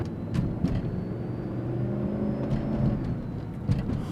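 A rare 1990s Ford car rumbles as its engine pulls steadily under hard throttle, the low drone holding fairly constant with a few faint knocks on top and no talking.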